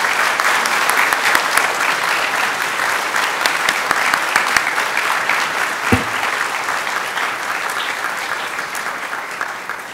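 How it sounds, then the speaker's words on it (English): Sustained applause from a large audience at the Cabarrus County Hearts & Heroes 2018 awards ceremony, a steady, dense clapping that holds for the full ten seconds with one sharp louder clap near the middle. "If you will, join me for a round of applause for everybody here."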